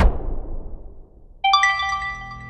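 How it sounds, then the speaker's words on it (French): A mobile phone sounds a short, bright chime for an incoming message, ringing out clearly after a fading thud and a moment of near silence. "Le lendemain matin, le téléphone de Victoire, la plus jeune fille du couple, bip."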